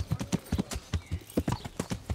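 Horse hooves clip-clop in a quick, steady rhythm as a rider travels on horseback in the medieval game Kingdom Come: Deliverance, close and clear with no talking over them.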